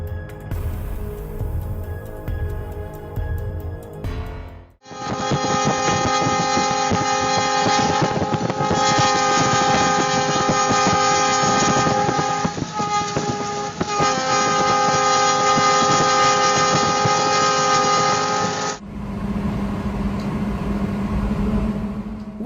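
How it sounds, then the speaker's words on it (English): Two trains on the same track in Herne, Germany, a long, loud, sustained train horn blast over rumbling rail noise, followed by continued train rumble. "Seeing two trains barreling down the same track is a recipe for disaster."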